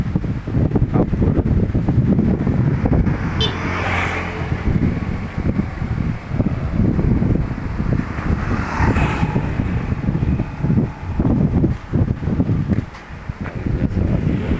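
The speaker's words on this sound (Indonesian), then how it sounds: "Anginnya sangat kuat." Strong, fierce morning wind roars against the microphone in constant heavy buffeting gusts, loud and unbroken, with rustling debris mixed in and no talk.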